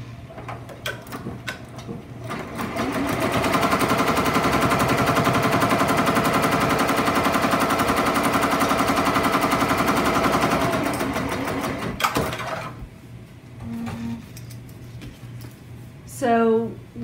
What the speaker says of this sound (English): So let's start stitching the first pieces of applique.